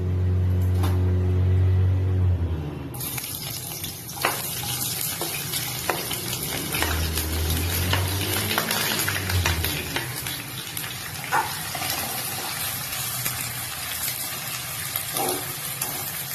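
Sliced onions fry in refined oil in a kadai for a mutton biryani, a steady close sizzle with occasional stirring scrapes, the hiss growing louder and brighter after the first few seconds, with no voices.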